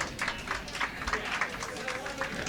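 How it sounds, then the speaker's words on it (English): A local crowd claps for the SUNY Poly B team winning the B event final at a college curling bonspiel, a patter of scattered hand claps in uneven bursts, moderately distant, with a voice talking over it. "Big round of applause goes up"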